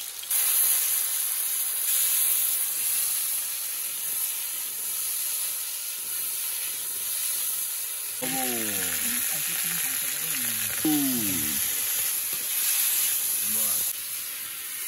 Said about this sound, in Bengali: প্রথমে আলুটা ভেজে নেওয়া হবে।